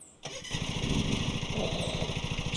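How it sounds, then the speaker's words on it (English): A riding lawn mower engine in Lawn Mowing Simulator cranks over and catches after a brief pause, settling into a loud, steady, pulsing idle chug close up. "Start your engine."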